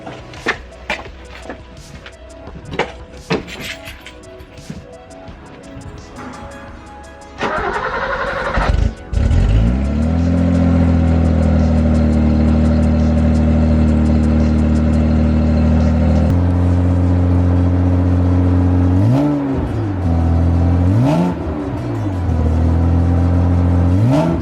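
A BMW E28 with a straight pipe exhaust cranks over after some clattering handling sounds, catches and settles into a loud, raw idle with a few blips of revving, close and dominant throughout.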